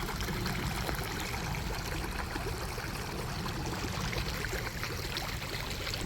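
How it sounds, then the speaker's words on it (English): Water from a broken water main pours steadily into a storm drain, a constant, even rushing wash with no breaks, near and moderately loud. "The water is flowing into this drain, the one you see here."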